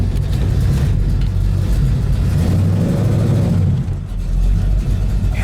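A 1970 Pontiac GTO V8 engine runs with a steady, loud, close-up rumble, its low throb pulsing through the whole stretch with a brief dip near the end.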